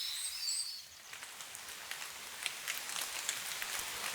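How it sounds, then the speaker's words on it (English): Rain falling on forest branches and leaves in the video game Kingdom Come Deliverance 2, a steady soft hiss of drops with scattered light patters, fairly faint and even throughout, with no voices. "So you hear like the drops hitting branches and leaves."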